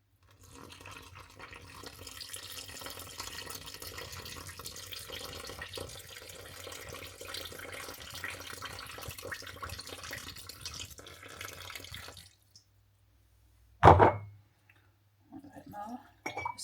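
Water is poured from a tap into a bowl for Lancashire oven bottom muffin dough, a steady, moderately loud running flow lasting about twelve seconds, then stopping, followed by a short louder splash and a few faint drips.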